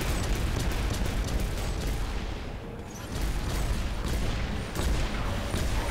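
An explosive blast effect in the War Robots video game bursts out as a dense roar of booms and rumbling impacts, loud and continuous with a brief dip before a fresh wave of detonations.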